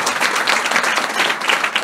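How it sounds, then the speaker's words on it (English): A big round of applause from an audience at a talk, loud, dense and close clapping that continues evenly throughout the short moment. "give them a big round of applause."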